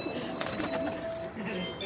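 Pigeons in a loft coo softly and flutter amid a busy, continuous background, with low murmuring voices present throughout the short stretch.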